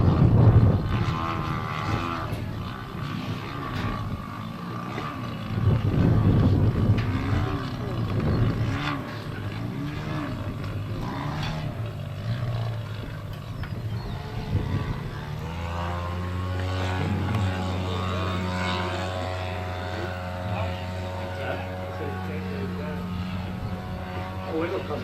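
Fokker Dr.I triplane propeller engine flying, a continuous distant drone that rises and falls and grows more tonal later on, heard under people talking throughout.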